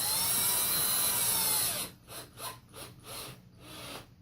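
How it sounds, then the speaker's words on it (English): A continuous high-pitched whirring for nearly two seconds, then several short bursts of a power drill driving screws into a wooden antler plaque, close by. "And tighten those screws down now."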